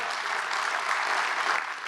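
An audience applauds steadily at a Long Beach city council event, a dense even wash of many clapping hands holding at one level from start to finish.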